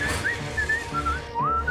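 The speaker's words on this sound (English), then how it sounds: "An indoor whistle brings luck's dismissal." Indoor whistling in a SpongeBob cartoon, a short wavering melodic whistle of several rising and falling notes, clear and close with no talk.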